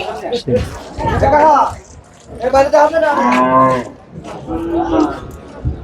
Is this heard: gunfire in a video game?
no